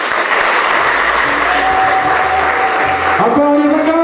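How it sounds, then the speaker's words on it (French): Loud, sustained applause from a crowd at the inauguration ceremony of a multipurpose hall in Mvengue, steady clapping throughout with a sung or held tone emerging near the end. "Encore des acclamations!"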